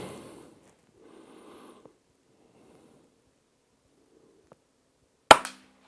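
A single short, fairly quiet crack comes from a Bergara BMR-X Carbon rimfire rifle while rabbit hunting, following a few seconds of faint rustling and near silence.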